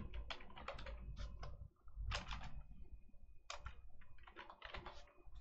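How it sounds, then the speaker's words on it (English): Close, fairly quiet clatter of keys on a computer keyboard, quick bursts of presses separated by brief pauses, with no voices heard. "I'm just going to hit Control S on my keyboard to save this part."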